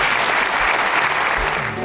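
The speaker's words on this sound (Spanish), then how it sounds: "Un aplauso." An audience at a wine awards ceremony for the Alicante DOP gives sustained, dense applause that carries on evenly throughout.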